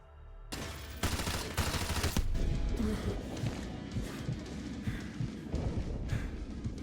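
An M240 belt-fed machine gun fires sustained loud bursts in Modern Warfare 2, rapid rattling shots continuing over several seconds amid crashing impacts.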